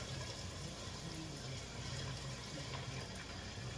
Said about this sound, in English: I'll add a little bit of hot water to it